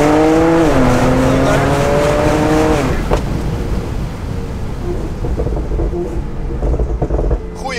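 A Stage 2 Porsche 911 Turbo with an Akrapovic exhaust accelerates hard on asphalt, its engine note climbing through gears before a shift and settling into loud road and wind roar.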